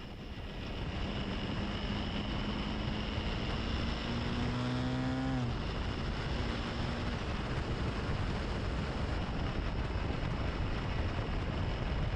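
Honda CRF300L motorcycle riding on a backcountry road, heard as a steady roar of wind buffeting and road noise with a faint engine note that briefly rises in pitch as it revs, continuous and unbroken, no talk.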